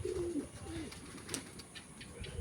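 A pigeon coos softly at a distance among flocks kept and flown from rooftops, a brief low call over steady outdoor background hiss.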